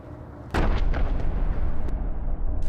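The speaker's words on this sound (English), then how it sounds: "There's been an explosion!" A sudden loud blast at an industrial site, presented as an arc flash explosion, bursts in after a quiet lead-in and gives way to a sustained roar marked by sharp cracks and a bang near the end.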